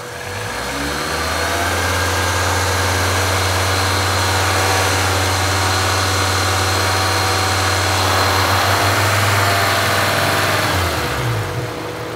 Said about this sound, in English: Now we'll bring the RPMs up to about 2500 RPM till the cooling fans come on.